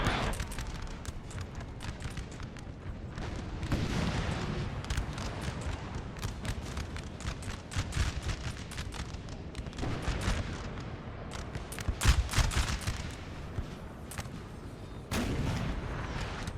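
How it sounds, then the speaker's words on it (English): Artillery and massed musket fire in a Napoleonic Total War 3 battle against Russian infantry: a continuous din of cannon booms and crackling volleys, with louder bursts near 4, 12 and 15 seconds. "You can see the artillery really starting to shift targets and getting a very good shots off on this Russian infantry."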